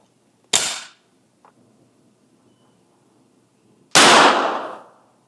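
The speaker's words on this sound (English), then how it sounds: "now we've got the 320 to go off without the round in the chamber" A Sig P320 pistol goes off with a spent shell casing holding a live primer, two sharp loud cracks a few seconds apart, each ringing out briefly, with a faint click between them.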